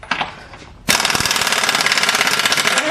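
A pneumatic impact wrench loosens the non-drive side crank bolt on a Bakcou electric bike, starting with a short burst and then hammering loudly and steadily for about two seconds, close up.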